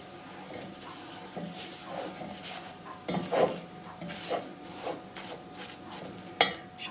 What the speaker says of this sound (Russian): Также перемешиваю.